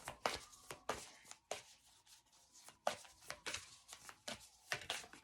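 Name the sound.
shuffling tarot cards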